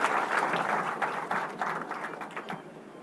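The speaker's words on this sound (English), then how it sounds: "Please give a huge round of applause to Agne." An audience applauds steadily at a tech conference, dense clapping that fades slightly toward the end, heard fairly close with no voices over it.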